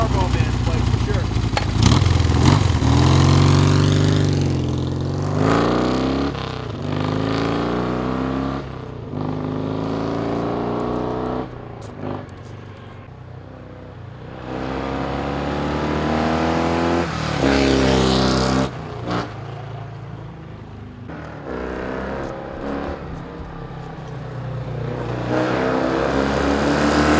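1976 BMW R60/6 Enduro motorcycle with a homemade 2-in-1 exhaust, its engine revving up and down in repeated swells, loud and close, with someone talking over it at times.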